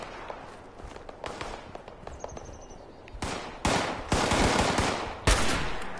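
Gunfire in the Fallout 76 video game, a few loud broadband shots and bursts standing out toward the end over a busy game soundscape, with no talking.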